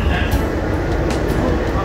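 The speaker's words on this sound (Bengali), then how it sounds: "মেট্রো চলছে।" Steady rumble and hiss of a Kolkata metro train in motion on the Noapara to Dum Dum Airport line, heard from inside the coach, continuous and fairly loud throughout.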